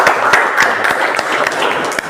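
Applause rings out in a school classroom during a technical drawing lesson, with loud, close clapping from a small group and a few sharp distinct claps over a continuous patter.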